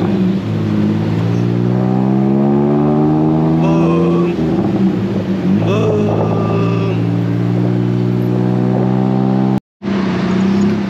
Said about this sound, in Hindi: बहुत ज़्यादा ट्रैफिक आ रहा है।